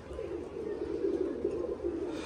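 Pigeons, including young birds, coo in a winter high-flying pigeon loft, a steady low murmuring drone of several birds close by with no voices over it.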